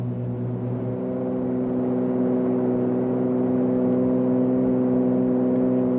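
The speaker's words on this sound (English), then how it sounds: "Full throttle." A twin-engine aircraft runs at full throttle on its takeoff climb, a loud steady droning whir with strong sustained tones that hold even throughout.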